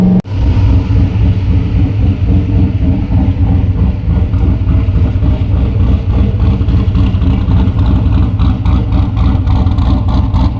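Boosted Mazda Miata engine idling roughly, a loud, close, lumpy low rumble with an uneven choppy pulse running continuously throughout.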